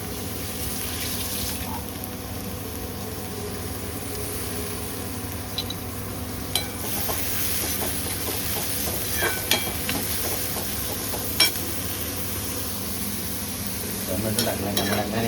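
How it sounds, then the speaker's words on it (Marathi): Onions stirred and fried in a pan for a mackerel dish, a steady close sizzle with scraping stirs and occasional utensil taps, joined by a louder rush near the end. "आणि ह्या कांद्याला थोडंसं व्यवस्थित ढवलायचं आहे. तो कांदा थोडा लाल झाला पाहिजे"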